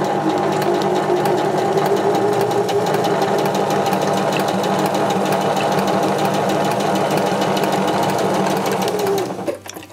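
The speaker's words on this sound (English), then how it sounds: "Just going to sew that." A sewing machine running steadily while stitching a zipper in place, its fast continuous whirring holding for nearly the whole stretch before stopping abruptly at the end.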